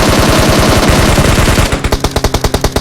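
Automatic gunfire in the mobile game PUBG Mobile, a loud sustained burst of rapid shots blurring together, then slowing into a string of distinct evenly spaced cracks, with no talking.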